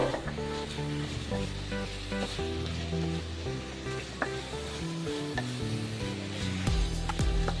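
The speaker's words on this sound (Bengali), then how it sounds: "এবারে মাশরুমগুলোও আমি তিন থেকে চার মিনিট অনবরত নাড়াচাড়া করে মশলার সাথে কষিয়ে নেব" Mushrooms frying with spices in a pan, stirred constantly to cook down: a steady, loud sizzle runs throughout with scraping stirring strokes, no voices.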